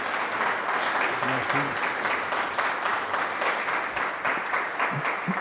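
An audience at an aerospace talk applauds a speaker with steady, full clapping that holds for several seconds, and someone briefly says a word of thanks over it.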